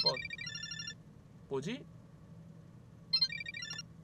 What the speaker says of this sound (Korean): 전화 왔어.